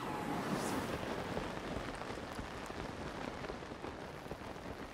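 Steady rain falling in The Legend of Zelda: Tears of the Kingdom, a soft continuous hiss of drops spread across the whole stretch, faint and even with no voices over it.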